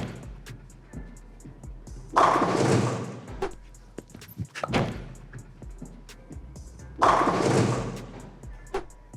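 A bowling ball on its first shot down the lane: two broad rumbling thuds several seconds apart, each loud and rolling, amid scattered small knocks and clatter.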